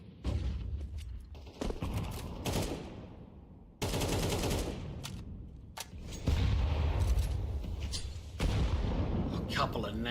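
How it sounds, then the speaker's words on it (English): Grenades exploding during a competitive tactical shooter playoff match, heard among dense bursts of gunfire and booms under continuous excited commentary. "A couple of nades just dunking down onto Risky"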